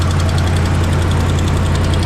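A 2013 Ram Sport pickup's Hemi engine idles steadily and loudly up close, a constant low rumble with a faint rhythmic ticking on top, no voices.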